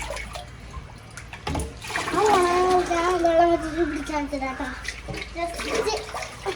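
Water splashes and trickles during a fish tank water change, steady and close, while a voice talks over it.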